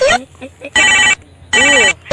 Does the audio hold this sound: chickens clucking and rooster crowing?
no